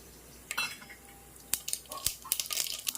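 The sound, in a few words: mustard seeds spluttering in hot oil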